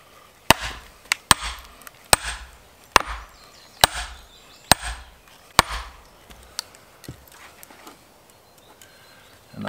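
Wood is split by hand with sharp chopping blows at a Viking-style house, giving about eight crisp, close cracks at uneven intervals, each with a brief splintering rattle, then quieter knocks toward the end.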